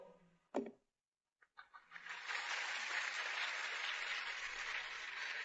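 An audience at a Tamil public talk breaks into applause. After a few scattered sounds and a brief silence, steady hand clapping swells and carries on, dense and even but fairly faint.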